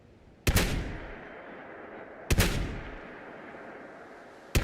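Gunfire in the video game Fallout 76: three loud, sharp shots spaced about two seconds apart, each trailing off in a long echoing decay, with no talk.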